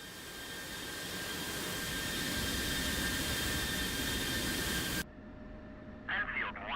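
A simulated F/A-18 jet engine taxis in the DCS flight game, a steady whining roar that builds slightly, then cuts off abruptly, followed by a brief burst of radio-style voice.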